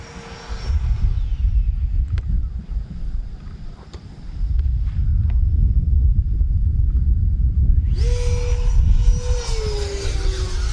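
A Freewing F/A-18C Blue Angels 90mm RC jet flies nearby with a rushing whoosh and buffeting wind noise, swelling louder midway, then a rising whine sweeps in near the end.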